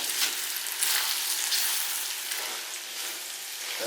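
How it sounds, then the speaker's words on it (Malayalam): Steady, even sizzling of carrots frying in oil while being stirred for a carrot pickle, close and moderately quiet, with no talking. "ആ വെള്ളമയം പോകുന്നിടം വരെ ഒന്ന് ഈ എണ്ണയെ തന്നെ ഇട്ടൊന്ന് ഇളക്കി കൊടുക്കണം"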